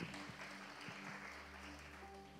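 Congregation applauding during a Sunday service at GBI Sariwangi church in Bengkulu, a steady dense wash of clapping throughout with a faint low hum beneath.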